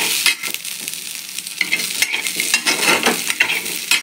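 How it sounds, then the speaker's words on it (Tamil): Coconut pieces sauté in a hot pan for a country-chicken curry masala. A spatula scrapes and stirs in quick, uneven strokes over a close, bright sizzle. "இந்த தேங்காய் ஒரு சில்லு அளவு தேங்காய், இதையும் நல்லா வதக்கலாம்."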